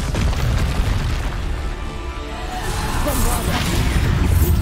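A Bombarda spell explosion in Hogwarts Legacy booms with low rumbling blasts and whooshes, loud and continuous, with a voice partly audible over the combat.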